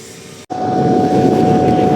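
A MIG/MAG welding arc on a 2G joint strikes abruptly after a brief gap, then settles into a steady, loud crackling hiss with a constant buzzing hum, close and uninterrupted.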